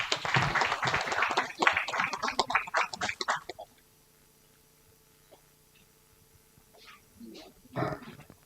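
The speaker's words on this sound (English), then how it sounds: "Please give an applause." Audience applause at a university MBA and BBA orientation program: dense clapping fills the first three and a half seconds. A quiet stretch follows, then a few faint claps or voices rise near the end.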